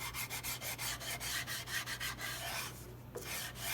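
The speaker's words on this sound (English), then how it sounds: "this is a 150 grit sanding block" Steady back-and-forth rasping of a 150 grit sanding block rubbing across wood, rhythmic strokes close up, pausing briefly near the end.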